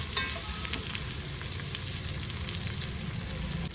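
Mint leaves being stirred into a pot of vegetable biryani, giving a steady loud sizzle and scraping stir that runs continuously, close up, with no talking.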